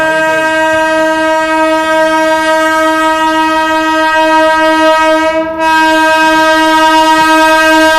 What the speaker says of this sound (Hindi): सामने से ट्रेन और